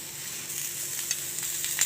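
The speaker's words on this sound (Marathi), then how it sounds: "कांदे छान असे भाजून घेते मी याच्यामध्ये आता थोडंसं परतून घेते" Onions sizzle steadily in hot oil in a pan on a home stove, a soft continuous hiss and crackle with a few small pops, fairly quiet and without voices.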